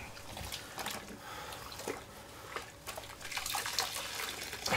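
Water running steadily from a tap during a rinse-down, a continuous splashing hiss with small drips and shifts in the flow, close by and with no voices.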